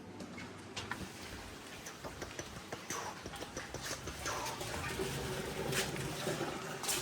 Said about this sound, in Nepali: धरो पानी परिरहेछ